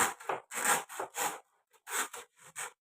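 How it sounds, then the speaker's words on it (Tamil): A knife slices a banana stem into rounds, making a series of close, crisp fibrous cuts and rubbing strokes in uneven bursts with short pauses between them. "முதல்ல இதை ரவுண்ட் ரவுண்டாக கட் பண்ணிக்கலாம்"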